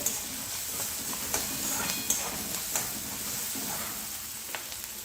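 Onion sautéing in a pan for a mushroom bhaji, with a steady soft sizzle and a few light scraping clicks of stirring, close and alone.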